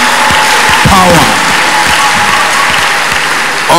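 A congregation claps together at a church testimony service in Lagos, a loud, steady burst of clapping overlaid with shouts and voices from the crowd.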